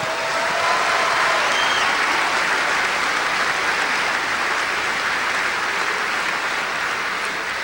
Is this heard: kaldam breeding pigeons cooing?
no